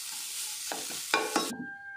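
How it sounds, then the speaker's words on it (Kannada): Grated coconut frying in a pan for poha laddu, a soft steady sizzle with a few scraping stir strokes and spoon knocks before it drops to quiet background hum. "ಯಾನು ತಾರಾಯಿ ಪಿರೆದಿತ್ತಿನ ಅವೆಲ್ಲ ಪಾಡ್ದು ಒಂತೆ ಪೊರ್ತು ಫ್ರೈ ಮಲ್ಪೆ"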